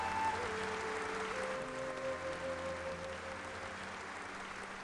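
Sustained audience applause at a Peking Opera performance, a dense even wash of clapping throughout with a faint tonal line running beneath it.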